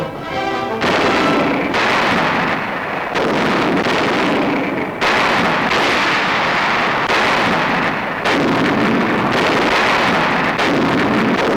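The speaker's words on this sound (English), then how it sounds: "This is the start of one of the great barrages." Heavy artillery barrage firing in loud, booming blasts, a burst every second or two with rumbling decay between, dense and continuous, on an archival newsreel recording.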